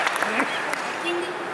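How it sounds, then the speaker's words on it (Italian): Audience applause at a dubbing awards gala at Romics 2017, a brief burst of clapping from the crowd with a voice speaking over it. "un applauso a Ilaria Latini"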